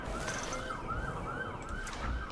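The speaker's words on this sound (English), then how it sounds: "Excuse the sirens." A distant siren yelps in quick, repeating rising-and-falling cycles, fairly faint, over low background noise, in the video game Jurassic World Evolution 2.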